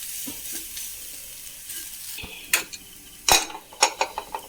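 Steady sizzling in a pan with a few sharp scrapes and clinks of a spoon toward the end as grated coconut is roasted, no talking.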